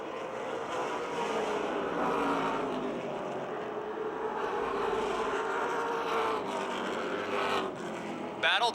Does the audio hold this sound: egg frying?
no